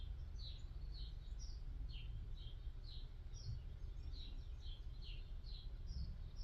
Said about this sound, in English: The birds are chirping so nicely.